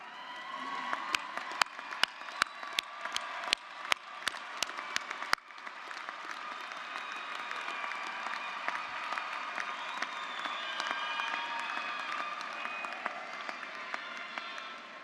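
An audience at a graduate commencement ceremony applauds the graduates' families, opening with a few distinct slow claps that swell into sustained, dense applause from a large hall crowd.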